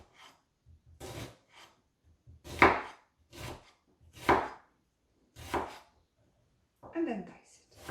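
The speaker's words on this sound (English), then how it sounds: "Use the claw grip to slice the onion as small as you can." Knife slicing a peeled onion on a chopping board in a home kitchen, several separate crisp cuts spaced about a second apart, close and fairly quiet.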